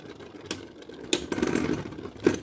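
Beyblade Burst Turbo spinning tops battling in a stadium, with a few sharp, close clicks and taps over a light mechanical whir, no voices.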